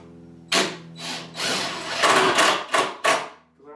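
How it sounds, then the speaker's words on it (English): Bursts of a power drill boring holes in wood whine on and off, several short runs in a row, loud and close with no one talking. "drill them a little deeper."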